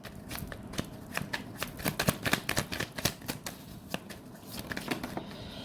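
Tarot cards shuffled by hand in a rapid, continuous riffle of crisp slaps and flutters, close and fairly loud, with no talking over it.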